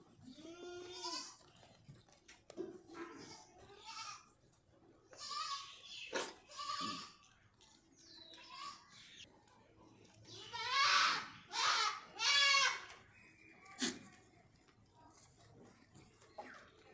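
Goats on a newly stocked goat farm bleat repeatedly in short, wavering cries, several voices overlapping at close range amid faint background murmur.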